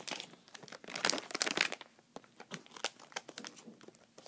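Small scissors cutting open a plastic package of hickory smoked jerky, with close crinkling and snipping bursts of plastic in an irregular rhythm, no speech.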